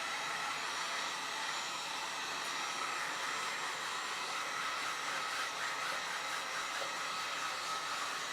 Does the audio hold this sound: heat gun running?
yes